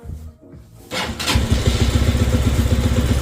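A warm Zongshen ZS200GS motorcycle engine cranks briefly and catches, then settles into a loud, steady, pulsing idle close by.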